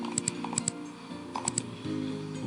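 Keys clacking on a computer keyboard during PCB footprint design in ISIS Proteus, a short run of crisp, close taps in quick uneven bursts with no voices.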